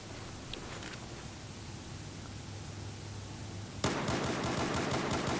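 Rapid fire from an MP443 pistol in Battlefield 4 game audio: a low ambient hum gives way near the end to a dense, loud rattle of quick successive shots.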